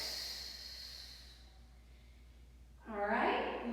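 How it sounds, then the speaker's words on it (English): A forceful exhale through the nose and mouth during a TRX suspension trainer workout, a short breathy rush near the end following quieter background sound. "Exhale."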